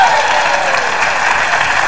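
A studio audience at an Indonesian TV talk show gives a steady wash of applause, loud and continuous, with a host's voice briefly heard over it.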